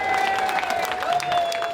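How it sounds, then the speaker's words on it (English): A hall full of guests at a dinner dance gives a short, steady round of applause, dense and continuous clapping from a crowd. "Big round of applause for Rita Jordan first."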